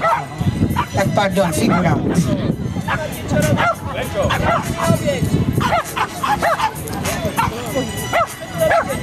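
A dog barks and yips repeatedly on its handler's command during a live public demonstration with a volunteer playing a confrontation, the barking loud and close amid crowd babble and talk.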